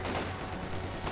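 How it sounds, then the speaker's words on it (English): Dense, continuous machine-gun fire in Company of Heroes 2 rattles against an MG squad in a building in a steady, loud burst. "I'm gonna kill his MG squad because it's in the building and I'm shooting it."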